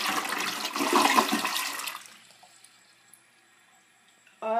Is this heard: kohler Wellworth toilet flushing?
yes